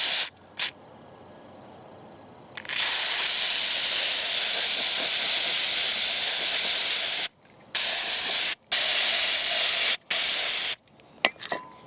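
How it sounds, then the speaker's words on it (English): An aerosol cleaner sprays onto the MAF sensor and throttle body of a 2002 Nissan Maxima in several loud, sustained hissing bursts of a few seconds each, separated by brief silent gaps and ending with short spurts. "So get your cleaner, give it a good spray."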